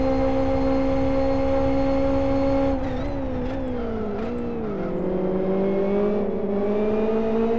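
Formula BMW race cars in Live For Speed howling at high revs heading into turn one, engine pitch dropping as they brake, with other cars' engines layered faintly behind.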